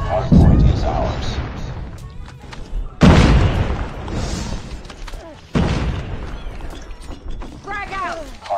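Explosions and combat effects from a Call of Duty Mobile hardpoint match: three heavy booming blasts a few seconds apart, each with a sharp onset and rumbling decay, mixed with clanking mechanical weapon sounds and game voice lines.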